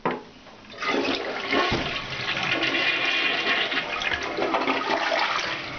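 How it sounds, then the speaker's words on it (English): A 1.6 gallon-per-flush tank toilet flushes loudly and close by, a sharp start followed by a steady rushing swirl of water that keeps going to the end, with no talking. "So we're going to flush the toilet and show that it is an effective flushing 1/6 toilet."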